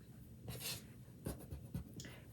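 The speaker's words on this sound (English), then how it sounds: "it's okay to just draw over this section for now and then erase it" Pencil drawing on paper, sketching over a section of a ribbon drawing: a few brisk scratchy strokes, close and clear, with short pauses between them and no talking.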